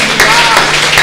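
Dense audience clapping at a Hindi kavi sammelan poetry recital in Peeragarhi, 2019, a continuous wash of applause heard close and loud with voices mixed underneath.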